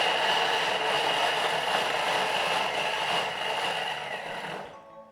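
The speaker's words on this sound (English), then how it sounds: "we're just going to chop that up. So chopping up the onion, garlic and ginger." A Thermomix TM6 kitchen machine chopping onion, garlic and ginger: a loud, steady high-speed motor whir with blade churning that holds for several seconds, then winds down and cuts off near the end.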